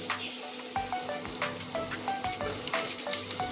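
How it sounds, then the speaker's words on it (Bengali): Potatoes fry in hot oil in a pan for ghugni, giving a steady close sizzle with soft stirring scrapes, while faint tonal beeps repeat in the background and no one speaks. "আলুটা এবার আমি লাল করে ভেজে নেব"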